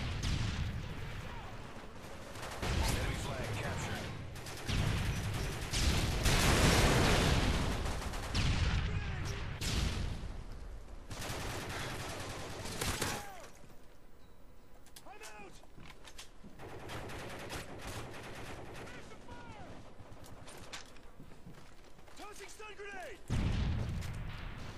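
Gunfire from a pistol and a P90 in Call of Duty: Modern Warfare 3: bursts of rapid shots and louder volleys come and go across the stretch, mixed with explosions and game noise, with a voice talking over parts of it.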